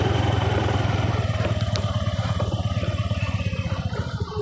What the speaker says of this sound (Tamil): மேலே வண்டி போகுது.